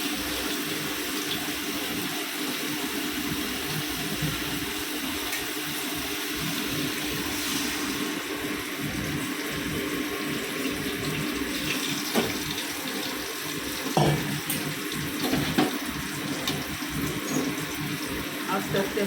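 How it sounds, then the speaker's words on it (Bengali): Water runs steadily from a tap into a cooking pot in a home kitchen, a continuous even splashing rush that holds for the whole stretch, with faint clinks and a little background noise. "তো এবারে জল দিয়ে দেবো।"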